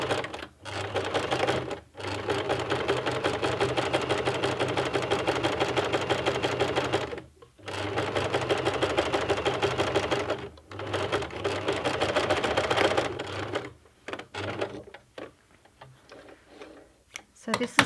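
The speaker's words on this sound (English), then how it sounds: "what I want to do is sew really close to this edge, and I'm sewing in black thread" A sewing machine runs in long steady bursts, stitching black thread close to a fabric edge, with short pauses between runs and lighter handling sounds near the end.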